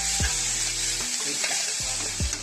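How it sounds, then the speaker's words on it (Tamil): Garlic paste sizzling in a hot pan with oil, a loud steady frying hiss with a few low thumps and scrapes as it is stirred, no talking. "வெள்ளைப்பூடு பேஸ்ட் போடுவோம்."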